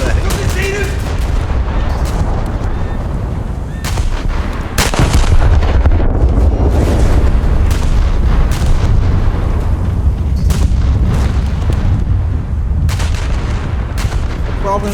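Heavy inch guns fire in a naval video game, with repeated loud booming shots and rumbling blasts over a continuous dense background of battle noise.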